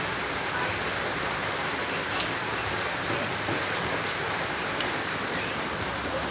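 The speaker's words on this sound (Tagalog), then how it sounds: "Mahina ang patak na ulan, malamang hanggang mamaya na yan." Light rain falls steadily, a soft, even hiss with occasional faint drips close by and no voices.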